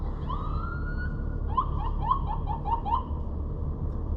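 An ambulance siren sounds from outside a BMW M2 with a full exhaust, first a rising wail, then a string of quick whooping yelps, heard faintly through the car's interior.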